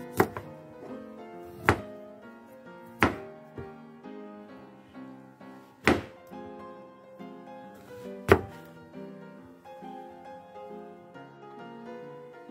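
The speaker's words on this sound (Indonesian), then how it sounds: "Kita akan potong-potong terongnya." A knife chops eggplant on a cutting board in irregular sharp strikes, with soft background music between the cuts.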